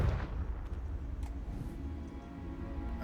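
A Confringo blasting spell goes off in the Hogwarts Legacy video game: a single low, booming burst at the very start, then a rumbling decay that fills the rest of the moment.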